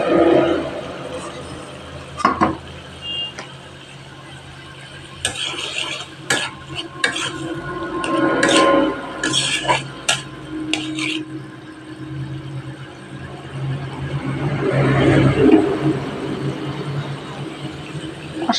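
Masala spice paste is stirred and fried in a pan: repeated scraping strokes of a spoon against the metal over a steady low sizzle, close and fairly loud.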